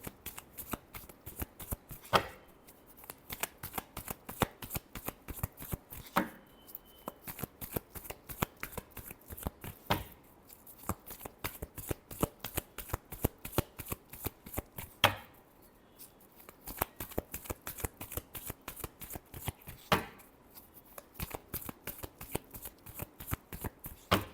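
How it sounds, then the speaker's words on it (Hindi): A deck of tarot cards is shuffled again and again, the rapid riffling pattering in dense, repeated bursts with brief pauses between rounds, close and fairly quiet. "last shuffle"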